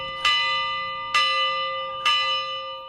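Three evenly spaced strikes of a church bell in Tuvalu, each ringing out with a bright metallic tone and a long, slowly fading hum.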